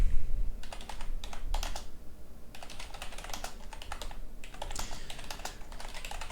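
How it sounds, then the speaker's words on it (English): Fingers type a prompt on a computer keyboard in quick irregular bursts of clicky keystrokes, with a short pause between runs, close and clear over a low room hum. "you type in your prompt at the bottom here"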